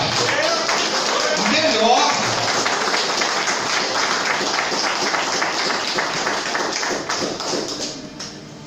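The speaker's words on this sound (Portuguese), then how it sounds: "Aplaudir de forma melhor." A church congregation applauds the mothers on Mother's Day, a steady wash of clapping filling the hall for about eight seconds, with faint voices mixed in and the sound thinning slightly toward the end.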